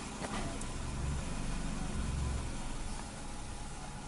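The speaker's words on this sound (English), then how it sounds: "basically you see the idle drop really low to like 560, 550" A 2010 Nissan AD Wagon with cylinder misfires idling low in drive, a steady low engine rumble with faint unevenness, quiet and continuous with no talking.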